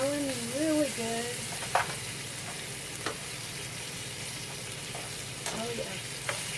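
Oxtail pieces brown in a hot pan with a steady, close sizzle and occasional pops and stirring scrapes, while a brief voice sounds at the start.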